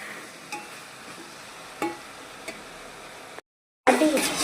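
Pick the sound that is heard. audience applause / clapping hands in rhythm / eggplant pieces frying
eggplant pieces frying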